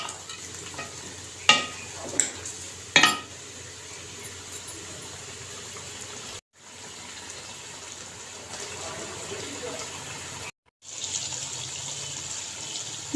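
Tomatoes and spices frying in a pan for a bitter gourd mutton curry, a steady sizzle that runs for the whole clip, with a few sharp stirring knocks near the start and two brief drops to silence.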